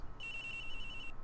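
A mobile phone rings inside the Ace Attorney Investigations video game, a steady electronic trill that sounds alone and evenly for about a second.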